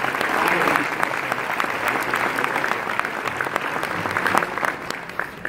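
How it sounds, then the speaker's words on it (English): Audience at an auto racing Hall of Fame induction dinner clapping steadily and fairly loudly throughout, with a few faint voices mixed into the applause. "So let's have a round of applause for"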